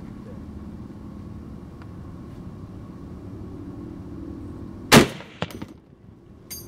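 A single loud, sharp Barrett .50 sniper rifle shot at an outdoor range cracks out over a low rumbling background, followed by a couple of quieter echoing thuds and clatter.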